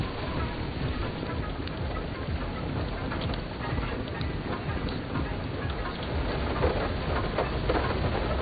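Dense, continuous pattering of a hailstorm striking surfaces, with scattered sharper ticks over a steady roar.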